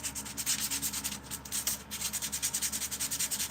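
Rhythmic back-and-forth scraping of sandpaper on a carved wooden spoon, steady close strokes repeating about twice a second with no talking.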